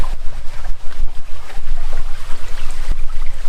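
Small waterfall in the Marunthukottai hills, heard as a loud, steady rushing of water close by, with a dense broadband roar, buffeted low thumps and wind noise on the microphone.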